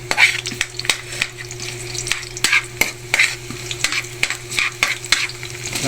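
Onion fries in a pan alongside garlic with a loud, steady sizzle and rhythmic scraping stirs, punctuated by sharp taps of the utensil against the pan over a low background hum.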